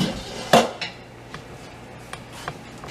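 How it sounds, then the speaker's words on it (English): A metal lid lifted off a pot of simmering corned venison, a sharp clank followed by a few lighter clinks and taps against cookware, close and alone. "Let's take the lid off. See if I can do this one-handed without making a mess of things."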